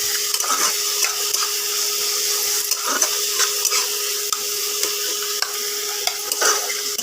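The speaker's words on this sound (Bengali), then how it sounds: "যেহেতু রসুন পেঁয়াজ আর আদার কাঁচা একটা গন্ধ বেরোয়, এইটার জন্য একটু ভেজে নিচ্ছি।" Garlic, onion and ginger paste stir-frying in a pan, a continuous bright sizzle punctuated by repeated scraping strokes of a spatula at a steady rhythm, close and without talk.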